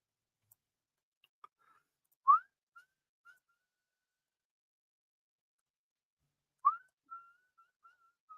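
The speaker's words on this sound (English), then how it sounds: "Who knows what that song is? I gotta try to do it again. I can't whistle for crap." A person whistles a short tune in two brief phrases separated by silence, each a rising note followed by a few held notes, fairly faint and alone with no talking.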